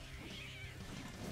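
A cat meows in a drawn-out, wavering call, fairly quiet and set against a low steady background hum, with no one speaking.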